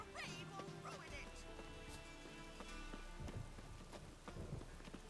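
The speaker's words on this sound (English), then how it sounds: "The rain will ruin it." Steady rain falls in The Witcher 3 video game, a dense close patter with low thunder-like rumbles, and brief voice-like sounds near the start.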